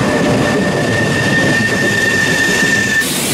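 A passing passenger train on the Helensburgh to Edinburgh service in Strathclyde, a loud close rumble of wheels on rails with a sustained high squeal, continuous and unbroken, no voices.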